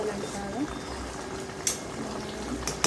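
Village-style tender jackfruit seed curry simmers as its water cooks off, a soft, steady bubbling hiss with a few brief clicks.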